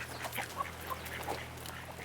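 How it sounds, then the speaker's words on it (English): Several faint duck quacks sound outdoors at a distance, spaced irregularly over a low steady hum of wind or background noise. "There are the wild ducks."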